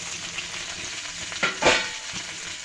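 Whole spices roast and sizzle in a hot pan after dried chillies for Maharashtrian katachi amti, a steady frying hiss with a couple of sharper crackling bursts from stirring near the middle, with no talking.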